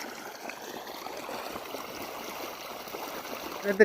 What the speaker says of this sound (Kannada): ನೋಡಿ ಬೋರ್ವೆಲ್ ನೀರು ಈ ಥರ ಇದೆ